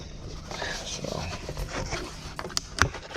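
Dogs panting and whimpering indoors in a home garage workspace, quick breathy panting under a person's voice, with a few sharp knocks and a thin high whine near the end.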